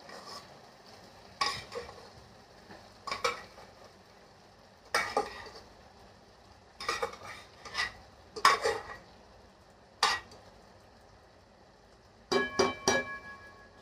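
Boiled rice and lentils go into a pan and get stirred, giving a series of scattered scraping and clinking knocks of spoon against metal over a quiet low hiss, close but soft, with no talk.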